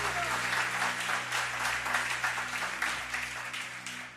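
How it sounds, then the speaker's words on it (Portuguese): A church congregation applauds during a service in Lisbon, giving a continuous, fairly soft wash of many hands clapping together with no pauses. "Pode aplaudir a Jesus"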